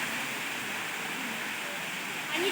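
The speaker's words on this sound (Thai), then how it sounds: "น้ำตกชั้นที่เจ็ดภูผาเอราวัน" The seventh tier of Erawan waterfall, water plunging down a high cliff face, gives a steady, full-band rushing roar that holds constant throughout with no break.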